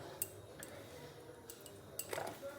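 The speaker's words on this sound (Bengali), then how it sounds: "কফিটা দিয়ে মিশিয়ে নিতে হবে" A few light metallic clinks and taps of a spoon against a cup of coffee with milk and sugar, sparse and quiet, with a brief cluster of scraping clinks near the end.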